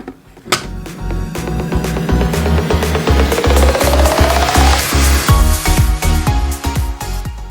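A blender whizzes protein pancake batter, a loud close motor whirr that starts low and rises in pitch as it spins up, running almost continuously with rough churning.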